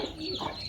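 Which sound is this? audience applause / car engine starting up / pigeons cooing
pigeons cooing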